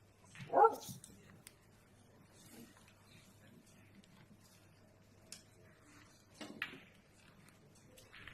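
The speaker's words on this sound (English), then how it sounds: "You'll hear my dog barking." A dog barks indoors in a quiet room, with a sharp, fairly faint bark near the start and another short burst of barking later, separated by low background hum.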